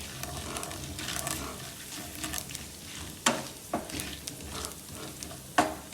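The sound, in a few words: dried red chillies sautéing in a pan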